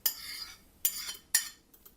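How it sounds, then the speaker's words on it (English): Three sharp clinks of a utensil against a bowl while mashed bananas are stirred into an egg mixture for chocolate chip banana bread, each a bright strike with a short fading ring, then a fainter fourth tap. "Mixing the bananas into the egg mixture until fully combined"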